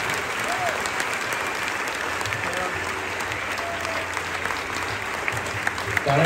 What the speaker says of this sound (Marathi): सगळ्यांनी स्टँडिंग ओवेशन द्यायचे, उभं राहून जोरदार टाळ्यांनी दाद द्यायची आहे.